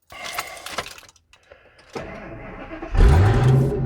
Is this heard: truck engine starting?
yes